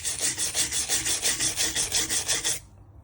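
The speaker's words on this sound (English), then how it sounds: "just get the wire brush on it, give it a good old" A wire brush scrubs rust off an old vice in steady back-and-forth rasping strokes, close and loud, about a dozen rhythmic passes before it stops abruptly.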